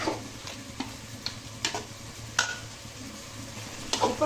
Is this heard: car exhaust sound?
no